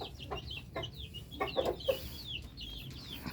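A hen clucking in a backyard poultry setting, mother of a young chick. Soft, fairly distant clucks come in short bursts over quiet outdoor background noise.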